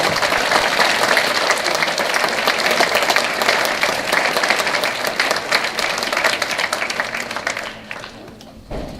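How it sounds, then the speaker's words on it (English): A large audience in a high school auditorium at a Veterans Day program claps steadily for several seconds, dense and continuous, before the applause tapers off toward the end. "Would you please give them a round of applause to thank them for this?"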